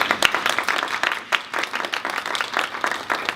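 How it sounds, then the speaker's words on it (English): Audience at a fertility and egg-freezing talk event giving a round of applause, a steady dense patter of many hands clapping at moderate level throughout, with no voices over it. "Can we give them all a round of applause?"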